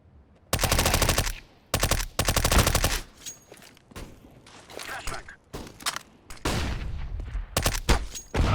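Rapid automatic gunfire from the game CS:GO rips out in several loud bursts. Scattered shots and footsteps fall between them, and voices talk over parts of it.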